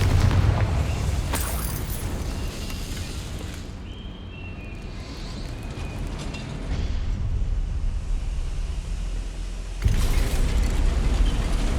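A Confringo blasting spell goes off in Hogwarts Legacy, with heavy booming blasts near the start and a loud renewed burst near the end over a rumbling game soundscape.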